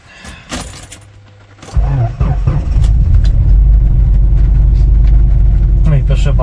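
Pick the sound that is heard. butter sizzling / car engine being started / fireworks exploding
car engine being started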